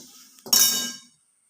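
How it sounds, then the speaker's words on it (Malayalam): Ground turmeric and spices tipped into a hot pan for roasting while making bitter gourd theeyal: a brief clatter and rustling sizzle that swells quickly, hangs for about half a second, then fades to silence. "ഇത് ചട്ടിയിലേക്ക് ഇട്ട് കൊടുക്കാം വറക്കാനും വേണ്ടി"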